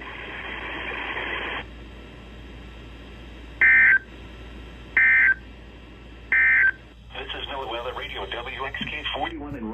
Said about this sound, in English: The three radios went off, the CG100 went off, the Emerson went off